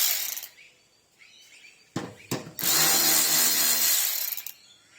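Power tool whirring as screws are backed out of a fuel tank sender unit being modified for an internal pump, with a few short bursts and then a longer sustained run, close up.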